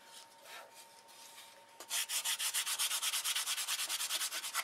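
Sandpaper rubbing on a control line model airplane stabilizer part to remove a pen line, heard as a fast, steady run of close, loud back-and-forth strokes after a quieter start.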